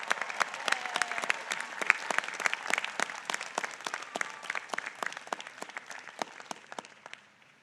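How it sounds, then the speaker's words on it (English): Large crowd applauding at a university undergraduate commencement ceremony, a dense steady roar of many hands clapping that carries on for several seconds before tapering off at the end. "Please give them a round of applause."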